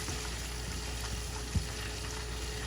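Fresh garlic and onion frying in a pan give a steady, quiet sizzle with soft crackle, plus one small clunk partway through.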